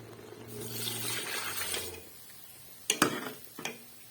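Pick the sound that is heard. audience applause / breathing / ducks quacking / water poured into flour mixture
water poured into flour mixture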